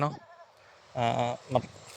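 Backyard farm goats bleating in short, wavering calls, three bursts close by, with someone talking around them.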